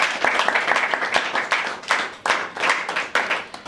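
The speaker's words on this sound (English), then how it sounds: "can we give a round of applause to all our panelists again?" A workshop audience claps for the panelists, a small-room round of applause with distinct, uneven hand claps that surge and dip in short bursts.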